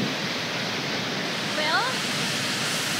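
A shallow waterfall weir flows in a steady, loud, broadband rush. A faint whistle-like sound briefly rises above the water.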